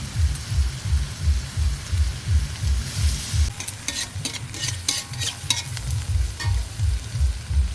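Radish and vegetables fried in a pan, sizzling steadily up close while a utensil stirs and scrapes in a regular, repeating rhythm.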